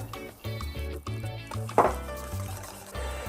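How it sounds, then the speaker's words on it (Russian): Water poured into a creamy Caesar salad dressing made with grated Parmesan, giving a close, steady gurgling fill with a few soft splashes and no talking. "Добавлю-ка я еще немножко воды."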